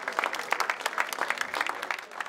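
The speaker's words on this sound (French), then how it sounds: "on peut les applaudir encore une fois" An audience claps after a presentation at a local event in Maurienne, steady dense applause with many overlapping hand claps, moderately loud and continuous throughout.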